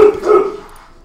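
A dog barks nearby in short, loud yips that fade within about a second, heard in a home setting while someone plays Stronghold Crusader 2.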